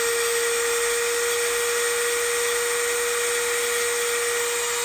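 A small rotary tool with a tiny grinding wheel runs at very low speed, giving a steady high-pitched motor whine that holds one tone throughout with no talk.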